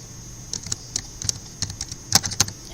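Typing on a computer keyboard while writing a short Python print program, a steady run of light, close key clicks in an uneven rhythm with no voice over them.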